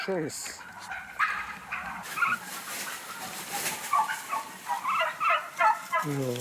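Turkeys gobble repeatedly on a farm with sick, weakened birds, a throaty warbling chorus close by, heard under a person talking.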